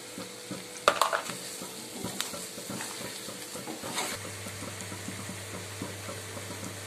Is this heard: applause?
no